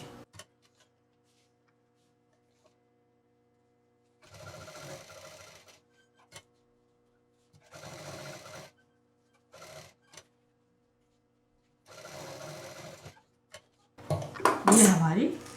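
A sewing machine stitches fabric for a handmade sling bag in several short whirring runs separated by quiet pauses, ending in a louder burst of noise.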